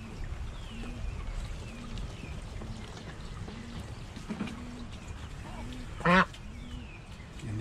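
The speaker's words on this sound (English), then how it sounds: "these are those baby ducks right here. They're full grown now." Full-grown backyard ducks quack while swimming on water, a string of short nasal calls at near and middle distance over soft splashing, with one louder burst near the end.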